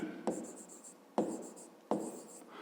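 A pen scratches out a math answer on paper in three short, close strokes, each starting sharply and fading, with quiet gaps between them.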